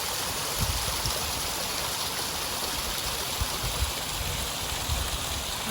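Steady rushing of rainwater runoff flowing in a stream at Gulliver's Cove near Digby after hours of heavy rain, a continuous broadband wash with no voices.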